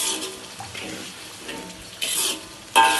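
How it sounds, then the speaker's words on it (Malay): A little water is poured into sizzling sambal of dried chili paste frying in oil, giving soft hissing splashes that come in two short bursts near the end after a quiet simmer. "masukkan sedikit air."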